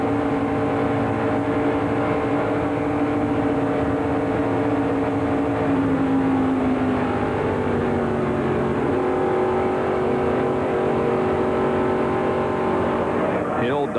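In-car sound from a race car in the 1996 ARCA Bondo/Mar-Hyde Series 200 at Daytona International Speedway: a loud, steady engine drone at high speed, pitch shifting slightly, with a commentator talking over it.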